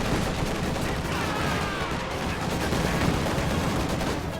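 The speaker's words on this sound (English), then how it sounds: "Katyusha barrage firing in this area." A Katyusha rocket barrage fires in a video game battle, heard as a dense, continuous roar of rapid launches and distant blasts filling the whole stretch without any speech.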